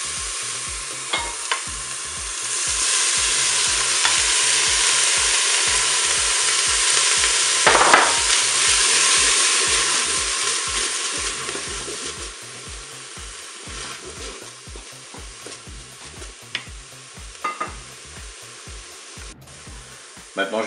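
Garlic and tuna sizzle and crackle in a Cookeo pot while a utensil stirs and scrapes repeatedly, the frying loud and steady at first, then quieter with intermittent stirring clicks.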